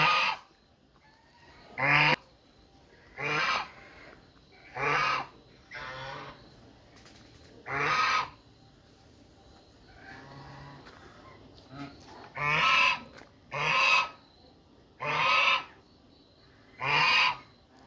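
A domestic goose honks repeatedly at close range, loud separate calls at irregular intervals over about eighteen seconds, with quiet gaps between them.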